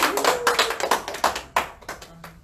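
A handful of people clap to welcome a chairman at a lifelong education association gathering, sparse, uneven claps close by in a small room, a few distinct slaps spaced apart rather than a full ovation.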